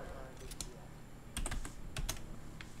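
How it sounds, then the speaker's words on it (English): Typing on a computer keyboard during PC zombie gameplay: quiet, irregular clusters of key clicks, sparse at first and then quicker bursts in the middle, over a low background hum. "I suck at typing."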